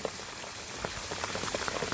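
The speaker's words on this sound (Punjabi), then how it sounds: "ਬਾਕੀ ਤੁਸੀਂ ਕਣੀਆਂ ਦੀ ਆਵਾਜ਼ ਤਾਂ ਸੁਣ ਹੀ ਰਹੇ ਹੋਵੋਗੇ" Monsoon rain falls steadily in a rural village, a close, even patter of drops with a few brighter taps on a surface, no speech.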